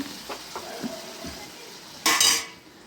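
Tomatoes frying in a pan for an omelette curry: a soft, steady sizzle with a few light utensil taps, then a brighter, louder burst of frying and scraping near the end.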